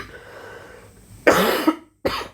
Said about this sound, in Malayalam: ചുമയ്ക്കാൻ വന്നാൽ ചുമക്കാതിരിക്കാൻ പറ്റില്ലല്ലോ